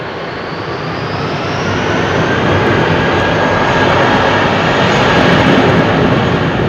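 A One Air Boeing 747 freighter departs Heathrow on runway 27R, its jet engines a loud, steady roar that swells slightly and holds without a break.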